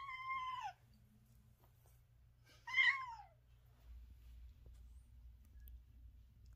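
A cat meows twice while being dressed in a costume, a drawn-out call at the start and a second brief, rising meow a couple of seconds later, close and fairly clear over a low indoor hum.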